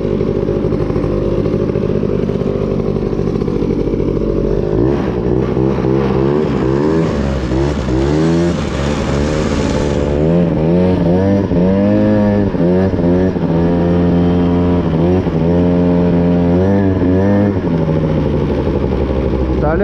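Two-stroke Quadzilla quad engine running loud and close, with repeated sharp revs rising and falling throughout; a brief higher whine near the middle and people talking faintly underneath.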